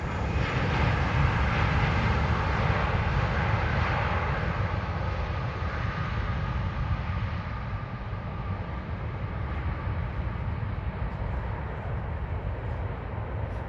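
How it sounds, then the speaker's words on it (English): Malaysia Airlines jet taxiing after landing at Kuala Lumpur International Airport, a steady, loud, broadband engine roar and rumble holding evenly throughout with no talking. "This is Malaysia Airlines at the Kuala Lumpur International Airport. Just landed here."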